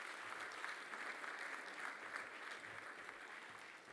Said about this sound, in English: Then I think another round of applause